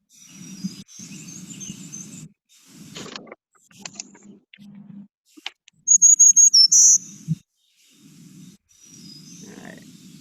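A black-throated green warbler sings short buzzy phrases that repeat and sit fairly faint against background chirps, with a brief burst of sharp, louder high notes partway through.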